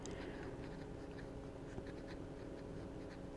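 A fine-nib fountain pen glides over paper in a run of short, soft, close-up scratchy strokes, faint against a steady room hum, with no one speaking.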